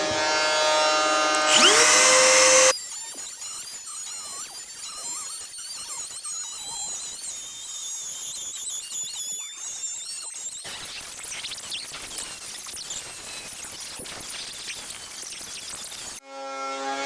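A Milwaukee trim router cuts a 3.5-inch hole, giving a loud, continuous high whine with squealing tones, a shift in pitch partway through, and the motor spinning down near the end.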